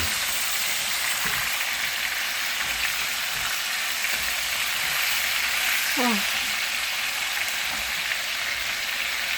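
Chicken pieces pan frying, a steady close sizzle and crackle of hot oil throughout, with a brief clatter of turning the pieces midway and someone talking faintly now and then.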